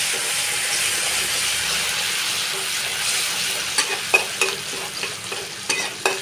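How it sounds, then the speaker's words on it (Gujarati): Ginger, garlic and chili paste sautéing in oil, a loud, steady close sizzle with a run of sharp spoon scrapes and taps toward the end. "પહેલાં આદુ લસણ મરચાંને આપણે સાંતળી લઈશું।"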